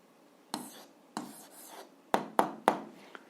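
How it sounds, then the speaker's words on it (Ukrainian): A pen writing an algebra answer by hand on paper, quiet scratchy strokes in short bursts with pauses, close and soft. "Пишемо відповідь."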